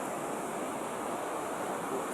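Strong sea waves roar in a steady, dense wash of surf, loud and continuous with no voices.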